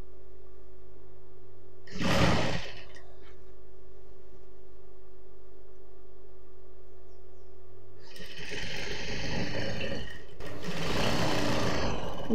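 Sewing machine stitching a churidar top, in two runs: a short burst near the start, then after a quiet pause a longer stretch of steady buzzing with a brief dip in the middle. Close and fairly loud over a low hum, with no talking.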